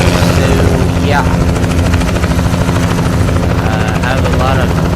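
Helicopter in the video game American Truck Simulator, a loud continuous rotor chop and engine drone filling the scene, with faint background chatter.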